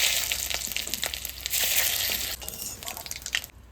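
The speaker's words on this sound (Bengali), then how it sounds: "জিরা তেজপাতা ভাজা হয়ে গেছে" Cumin and bay leaves crackle in hot oil with a bright, steady sizzle and a few stirring scrapes, close by, before the sound drops away abruptly at the end.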